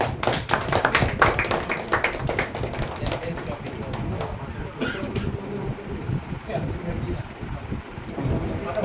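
Applause from a group at a mobile repairing course's closing program, strong and busy with sharp hand claps for the first few seconds, then thinning into softer scattered claps and a murmuring room.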